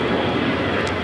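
A Delta Airlines Airbus A321 jet at Los Angeles International Airport gives a brief, loud, steady engine roar that stays broadband and even across the whole moment.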